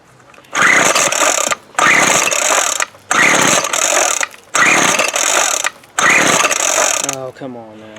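A Craftsman 24cc 17-inch weed eater's two-stroke engine roars loud and close in five revving bursts separated by short silent gaps, followed by a brief voice at the end.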